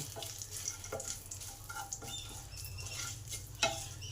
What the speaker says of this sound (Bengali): এগুলো যত সুন্দরভাবে ভাজা হবে পিনাট ভেন্ডি ফ্রাই মশলাটা তত টেস্টি হবে